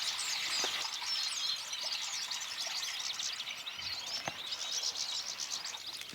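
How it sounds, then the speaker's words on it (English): Birds tweet and chirp among trees beside a trickling stream, with dense high twittering over a faint steady water wash and no voices. "all you can hear is the tweeting of the birds in the trees and the trickle of the stream"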